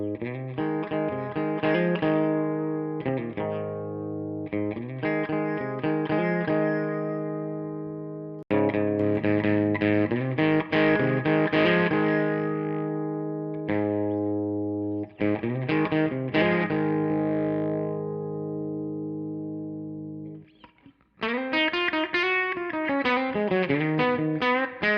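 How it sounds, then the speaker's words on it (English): Electric guitar played with a clean, normal tone, with phrases of chords and single notes separated by short pauses, ending on a wavering, bending passage, played alone and up close. "Here's what my guitar sounds like."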